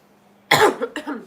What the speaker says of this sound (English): my cough is crazy tonight